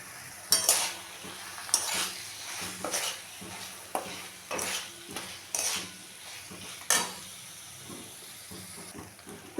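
Drumstick flowers being sautéed in a pan with mustard-poppy paste, green chili and a little sugar: a soft sizzle under repeated scraping and clinking strokes of a spatula against the pan, irregular and close.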